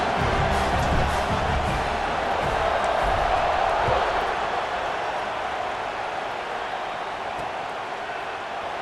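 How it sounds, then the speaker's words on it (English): A packed football stadium crowd roars steadily through a night game, a dense, loud wash of cheering that holds for several seconds and then eases slightly without breaking. "Night games are always so loud, so obnoxious, and these fans, they get something to cheer about"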